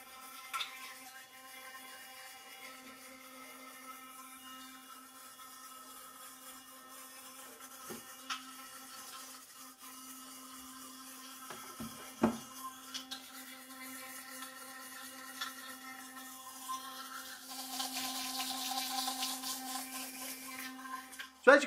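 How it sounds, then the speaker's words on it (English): A quiet Bitvae S2 electric toothbrush hums steadily throughout, with soft brushing scrapes and occasional clicks, growing slightly busier toward the end. "So as you can hear, it's a nice, quiet toothbrush that works fantastic."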